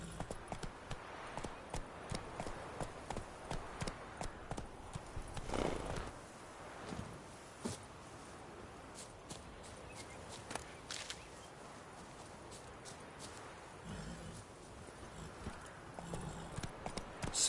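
Roach, a horse in the video game The Witcher 3: Wild Hunt, gallops with rapid, rhythmic hoofbeats, fairly quiet, mixed with occasional snorts and game ambience.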